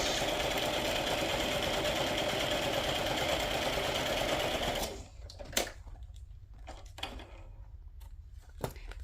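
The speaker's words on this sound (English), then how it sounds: "I'm just coming up with a straight stitch." A sewing machine running a straight stitch: a fast, even mechanical whir for about five seconds, then it stops and gives way to a few isolated clicks and taps in a quieter room.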